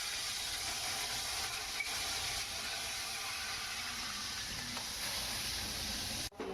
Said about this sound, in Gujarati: મેથી છે એને તળી લઈએ